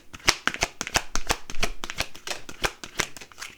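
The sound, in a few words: shuffling a deck of cards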